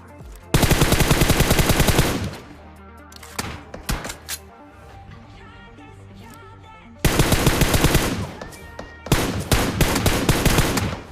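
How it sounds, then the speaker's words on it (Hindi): M4 rifle fire in the mobile game PUBG Mobile, loud rapid bursts of gunshots in two long stretches, separated by quieter scattered single shots and faint game sounds. "लेकिन अब तुम देखते जाओ मैं इनके कितना खतरनाक टैप फायर देने वाला हूँ।"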